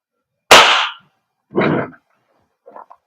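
A tan WE Kimber 1911 airsoft pistol fires three separate BB shots, each a sharp, close snap, spaced about a second apart, with the last one quieter and doubled.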